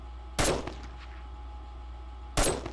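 Two sharp gunshots from the 7 Days To Die video game, fired about two seconds apart, each a loud crack with a short ringing tail over a steady low hum, with no talking.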